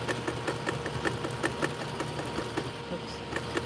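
A sewing machine stitching a denim jacket, running in a rapid regular needle rhythm like a small motor, close and steady, with a voice talking over it at times.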